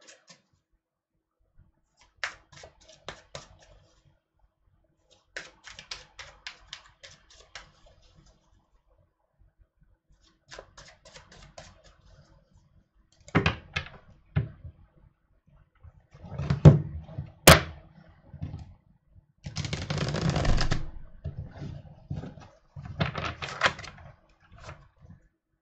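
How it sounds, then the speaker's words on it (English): Tarot cards being shuffled by hand in quick bursts of soft riffling and tapping, close and intermittent with pauses between. "Now let me shuffle and we can finally go to Scorpio."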